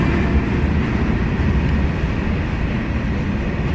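Kondaveedu Express passenger train 17211, running between Machilipatnam and Bengaluru, gives a steady, loud, close rumble with constant rolling wheel and coach noise throughout, with no pauses and no voices.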